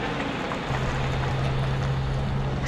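Car descending a steep snowy mountain road in Norway's Jotunheimen, engine held in second gear, a steady sustained drone with a constant low tone throughout, loud and close with broadband road and wind rumble.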